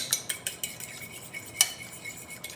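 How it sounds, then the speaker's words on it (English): An egg whisked with a fork against a bowl for a buttermilk chicken batter, quick light clinks tapping in an uneven rhythm, close and clear with no talking. "Get this egg beat up here"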